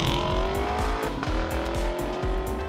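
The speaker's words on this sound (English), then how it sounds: "Back to the engine note, it's not too loud" Engine note of a 2018 Lexus LC 500 with its 5-liter engine, a steady throaty drone with rising harmonics and a rhythmic pulsing throb, heard close and alone without talk.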